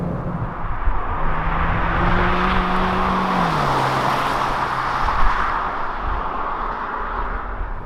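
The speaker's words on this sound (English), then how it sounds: "You see the electric motor is giving a very good support to 2-liter gasoline engine, and it's happening very seamlessly too." A 2021 Kia Optima hybrid pairing an electric motor with a 2-liter gasoline engine and 6-speed automatic, heard as a steady cabin hum and road noise while driving, with a faint tone shifting down midway.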